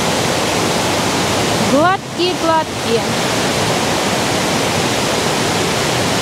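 Steady roaring rush of the Todtnau waterfall in southern Germany, loud and continuous throughout, with a man's brief spoken remark partway through.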